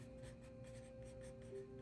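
A pen scratches softly across paper with another sheet beneath, a faint, close, continuous writing stroke with slight rhythmic pulses and no talk.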